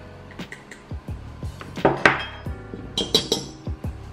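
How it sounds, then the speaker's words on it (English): A whisk clinks repeatedly against a bowl while dry ingredients including coconut flour are mixed, giving close, rhythmic metallic taps with a few louder scraping clatters. "First, you have to whisk all the dry ingredients together."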